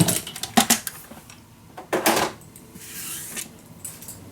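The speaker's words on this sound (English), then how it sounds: "If you cut these little corners off" Scissors snipping corners off paper for a mini album, two crisp close cutting bursts with sharp papery clicks, followed by quieter rustling and handling.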